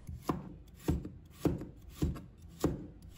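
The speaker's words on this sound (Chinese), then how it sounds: "再准备1条胡萝卜，把它切成小片" A knife slices a carrot into small pieces on a cutting board, five evenly spaced crisp chops about half a second apart, close and clear with no talk.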